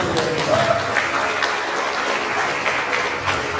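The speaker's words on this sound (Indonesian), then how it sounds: "kita beri tepuk tangan yang meriah untuk tiga narasumber." Conference audience gives lively applause for three panel speakers, a continuous bed of many hands clapping at steady strength, with a faint murmur of the room beneath.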